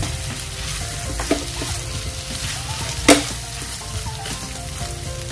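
Milkfish sisig with white onion sizzles steadily in a pan, a close, continuous frying hiss broken by a couple of brief utensil scrapes and clinks, with no voices.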